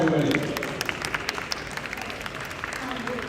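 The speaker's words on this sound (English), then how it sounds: "A round of applause, everybody." An audience at a barista championship finals in Singapore claps in a steady patter of applause that lasts a few seconds, with a voice on a microphone over it at the start.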